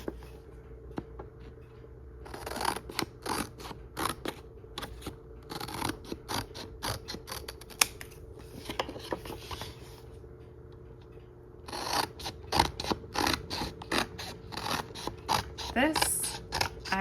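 Scissors cut through a plastic laminated pouch in repeated crisp snips, occurring in two bursts with a pause between them, close up and fairly loud over a steady low hum.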